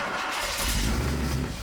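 A custom classic car engine cranks and catches, rising from a rough whir into a low rumbling idle, close and fairly loud, lasting under two seconds with no talking.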